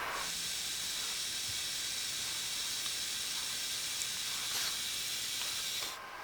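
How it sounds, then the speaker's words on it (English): Hot staples melted into the plastic front bumper of a Toyota Prius give a steady, even high hiss, close and unbroken, with a few faint ticks, then a sudden drop in level at the end. "Let's melt a few staples into the face of the bumper to keep it from separating while we weld it."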